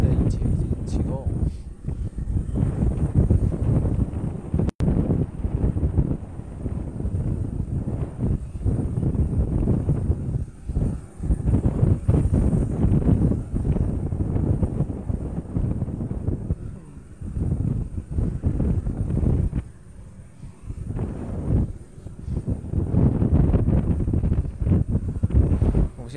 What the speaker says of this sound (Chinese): 我们可以听到这个飞机的引擎已经启动